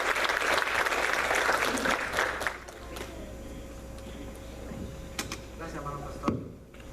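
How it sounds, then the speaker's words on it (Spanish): Church congregation applause, a dense burst of clapping that fades after a few seconds into a quieter room with scattered knocks and shuffling. "vamos a darle un fuerte aplauso"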